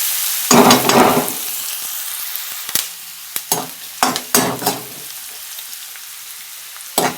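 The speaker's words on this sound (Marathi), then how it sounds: "कांदा चांगला लालसर भाजून घ्यायचे।" Onion with curry leaves frying in a kadhai for a bhindi fry, a steady sizzle running throughout, cut by a few louder bursts of stirring and spatula scrapes, close by with no talk.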